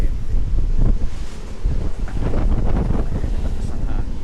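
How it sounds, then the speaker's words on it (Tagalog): Strong gusts of typhoon wind in Cavite City, Philippines, buffet the microphone in a steady, rumbling roar, loud and continuous throughout. "Tapos ang hangin."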